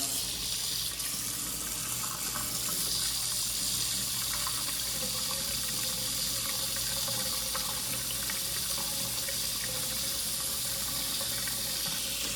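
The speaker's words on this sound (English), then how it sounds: "I'm gonna go run the water a little bit, the hot water." Hot water runs steadily from a tap, a continuous, fairly loud splashing hiss that fills the whole stretch without a break, during a water heater check.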